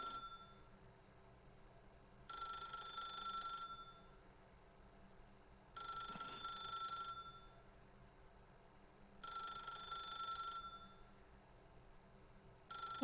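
A telephone rings in The Stanley Parable video game, sounding in three clear bursts of about a second and a half each, evenly spaced with quiet gaps between, plus the start of a fourth at the end.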